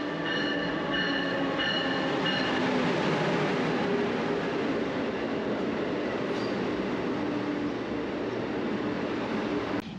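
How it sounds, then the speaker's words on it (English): Amtrak California Zephyr passenger train at Chicago Union Station, giving a steady, loud rumble of rail cars and station machinery with faint squeals, continuous for several seconds before cutting off. "We are in Chicago's Union Station, getting ready to hop on the California Zephyr."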